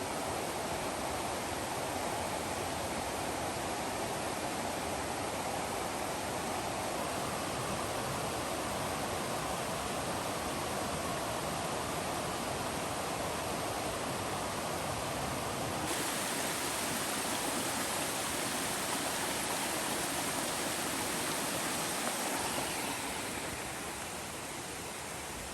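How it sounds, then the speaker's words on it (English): A rain-swollen creek along Twentymile Trail in the Great Smoky Mountains rushes loudly and continuously, a dense broadband roar of flowing water heard up close, easing slightly near the end. "I feel like the creek's got a little boost too from the rain. It's a little louder than usual,"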